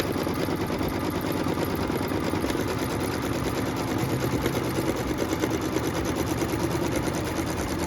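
A sewing machine quilts a 6.5-inch square fabric block, its steady rapid stitching running continuously and evenly at close range throughout, with no talking.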